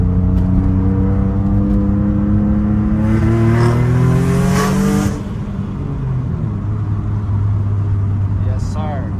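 A turbocharged Nissan 350Z pulls hard, its engine revving upward in a loud rising drone that then drops to a steady lower note. Heard close, over continuous road and engine noise.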